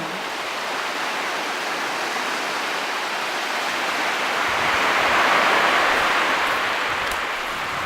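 Water rushes in and washes steadily over sand, a dense, continuous hiss and wash that swells slightly midway and stays loud and close throughout, with no voices.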